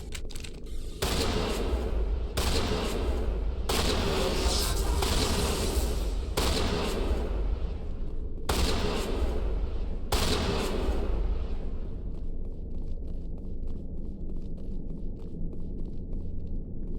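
Shotgun blasts in the video game Mass Effect Legendary, several loud booming shots fired in bursts with short gaps, fading to a quieter ambient tail near the end.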